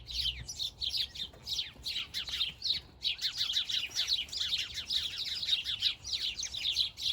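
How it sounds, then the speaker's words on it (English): Small birds chirp and tweet outdoors on a spring day, a dense run of quick, bright calls repeating almost without pause, fairly close and clear over a quiet background. "Hear those birds chirping."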